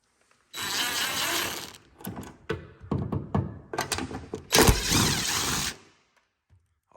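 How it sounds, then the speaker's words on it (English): Screws are taken out of an LG WM2455HG front-load washing machine, with several bursts of a whirring power driver separated by clicks and thunks of metal parts, close by with pauses between. "Okay, so now we need to take out these screws"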